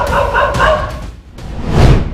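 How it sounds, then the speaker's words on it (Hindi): A stray street dog barks loudly and close by, giving a couple of harsh, rough barks followed by a deeper thump-like bark, with no talk over it. "कोई बाइक आती है, उनके ऊपर भौंकते हैं, काटते हैं।"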